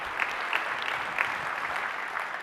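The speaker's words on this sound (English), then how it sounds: "Another big round of applause for all the 3 DJs" An audience at a business software summit keynote claps in a dense, continuous round, with a few sharper claps standing out near the front and no talk over it.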